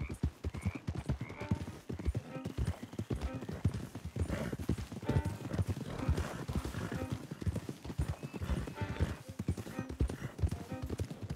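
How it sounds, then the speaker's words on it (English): Several horses clop along in Red Dead Redemption 2, dense overlapping hoofbeats at a steady walking rhythm with occasional whinnies, close and continuous throughout. "Don't want the horses clopping around outside the window."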